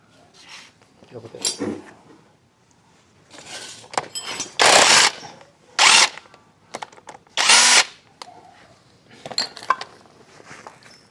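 Several loud, short bursts of a pneumatic impact wrench with a 14 socket working on a Ninja motorcycle, separated by metallic clinks of tools and people talking nearby.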